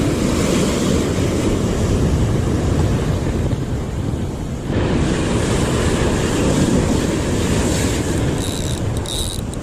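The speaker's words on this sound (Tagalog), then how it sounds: "Nakatakot lang, lalaki ng alon." Large ocean waves surge and crash in deep open water, a loud, continuous roar of surf with wind buffeting the microphone throughout.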